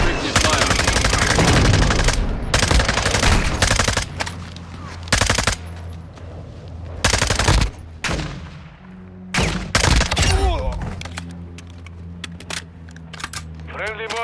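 Loud machine gun fire in the video game Call of Duty: Modern Warfare II, coming as rapid rattling bursts separated by short pauses. Radio voices and background battle noise run between the volleys.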